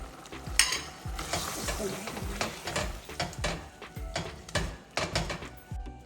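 A masala of coconut, poppy seeds and fried onions fries in a pot for aloo gosht korma, with close, rhythmic scraping and stirring strokes over a low sizzle.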